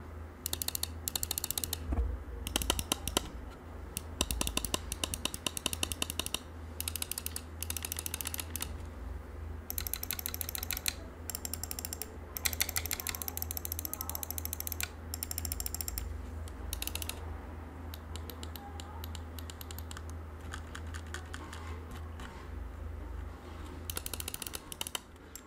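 Button clicks on a Razer Viper Mini ultralight gaming mouse, main and side buttons, close up: long runs of rapid, crisp clicking in bursts with brief gaps, crisp and steady in volume over a low hum, no talking.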